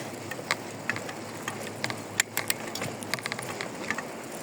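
A bicycle rattles along with scattered clicks and ticks from the chain and freewheel, irregular mechanical taps over quiet road noise.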